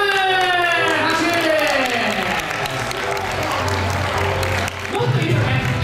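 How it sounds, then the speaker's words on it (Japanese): Crowd applause fills a dance contest awards ceremony, sustained clapping and cheering throughout with a host's voice and music-like tones over it. "拍手。"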